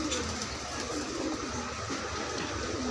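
Madrasi and Punjabi desi pigeons cooing at a pigeon shop in Trilokpuri, a steady soft low murmur of several birds over constant background din.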